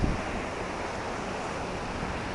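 Strong typhoon floodwater rushes past in a steady, loud roar of churning current, a dense unbroken wash of water noise with wind buffeting the microphone.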